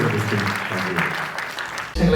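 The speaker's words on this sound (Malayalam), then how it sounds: "നല്ലൊരു കൈയടി കൊടുക്കാം സുരാജിന്" An audience claps at the ED – Extra Decent Malayalam movie audio launch, applauding actor Suraj Venjaramoodu. The applause is a dense, steady burst lasting about two seconds, then cuts off abruptly.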